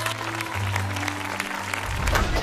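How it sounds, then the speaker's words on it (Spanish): Audience applause at a televised singing-competition battle round, a broad steady wash of clapping with low musical tones sustained underneath throughout. "Fuerte aplauso, por favor."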